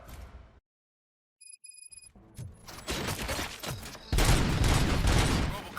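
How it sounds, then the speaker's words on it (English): Gunfire breaks out in the video game RoboCop: Rogue City, a few sharp shots giving way to dense, loud fusillades over a tonal game soundscape. "Gunshots? What's going on?"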